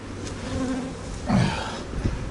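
Honeybees drawing comb inside a hive, including on the queen cage, making a close, continuous buzzing hum with a brief louder swell of wingbeats partway through.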